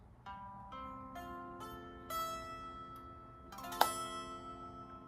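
Barre chords on guitar strummed one after another, each ringing out before the next, a brighter accented strike near the end; steady and moderately loud, no talking.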